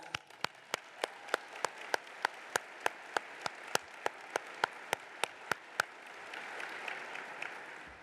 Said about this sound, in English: I'd like to give the AAM staff a big round of applause.